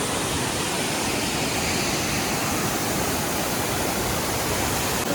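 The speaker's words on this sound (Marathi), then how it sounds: "हे बघा पाणी कसं उडतंय एकदम" Water at Mormarewadi waterfall near Kamshet, Pune, crashes and splashes in a dense, unbroken roar, loud and close, with no break for the few seconds heard and no voices over it.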